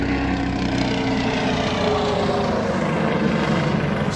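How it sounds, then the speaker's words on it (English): Loud, steady drone of a helicopter passing overhead, its rotor and engine noise holding strong and close for several seconds with no one talking. "I let the helicopter come over."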